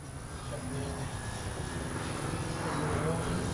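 An FMS PC-21 Pilatus RC model trainer plane with gear down passes by outdoors, a steady engine drone swelling slightly as it nears, with someone talking over it.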